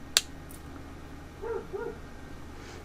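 A dog gives a couple of soft, short whimpering yips in the background of a quiet room after a brief sharp tap, faint and close by.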